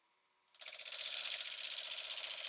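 A wood lathe runs at 900 RPM while a bowl gouge cuts into a turning bowl. After a half-second lull a loud buzzing chatter starts abruptly, with a quick pulsing rhythm, and keeps going to the end.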